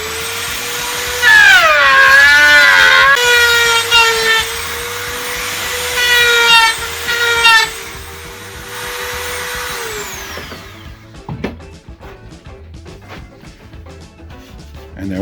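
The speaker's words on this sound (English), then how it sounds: "the Dremel with the plunge router works pretty well" High whining rotary tool with a plunge router base cuts a hole in pallet wood, its tone rising and falling in loud bursts over several seconds before cutting off, followed by quieter scattered clicks and handling noises.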